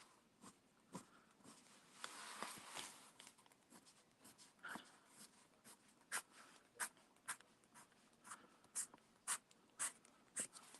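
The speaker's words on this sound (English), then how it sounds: "That's a cool pencil." Pencil scratching across paper while drawing sunshine rays, with a run of short, crisp strokes repeating at an uneven rhythm, close and fairly quiet, plus a longer rubbing stretch early on.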